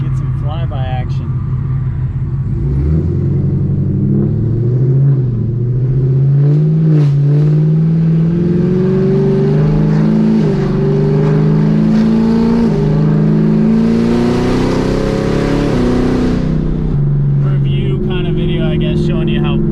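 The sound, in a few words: 2018 Camaro ZL1 exhaust flyby, Kooks long tube headers, no mufflers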